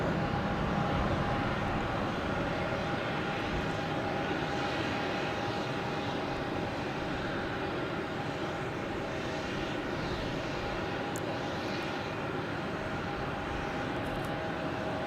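A Spirit Airlines jet backing up on the apron at Logan Airport at night, with a steady loud engine roar and whine that holds evenly throughout, no voices heard.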